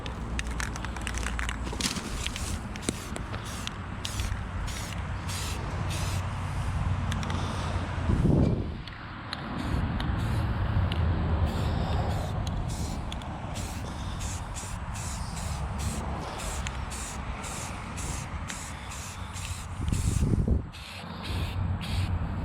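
A long hissing spray from a spray paint can, painting a 1968 Ford F100, runs almost continuously, with brief stop-start bursts and a couple of louder gusts, close by and loud.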